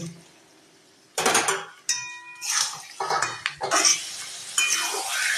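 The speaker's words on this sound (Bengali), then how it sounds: "মশলা কষা হয়ে গেছে, মাংসটা দিয়ে এবার কষবো।" Mutton is turned in spice masala in a pot, heard as loud, irregular clanks and scrapes of a metal spoon against the pot in quick bursts, with a faint sizzle underneath and no talk.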